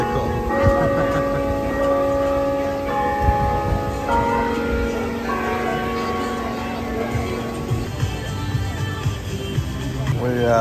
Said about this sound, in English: Every hour the bell rings.